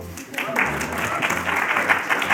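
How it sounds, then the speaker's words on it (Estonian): Studio audience on an Estonian quiz show clapping in a steady, moderately loud burst of applause that starts after a short pause and carries on evenly to the end. "teeme aplausi."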